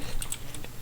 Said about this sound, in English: using his extremely noisy keyboard